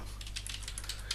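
Rapid typing on a computer keyboard, with a steady patter of light key clicks at close range over a low constant hum.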